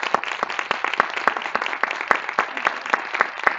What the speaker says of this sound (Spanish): me gustaría pedirles un aplauso para las cuatro, para cerrar